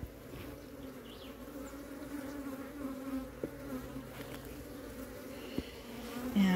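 Honey bees buzzing in an opened hive during a queen check, a steady low droning hum from many calm bees close by with a few brief clicks and knocks, and no talking.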